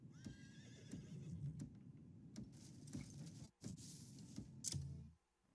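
A horse whinnies in a video game among scattered clip-clop steps and clicks, with a steady muffled background and no talking.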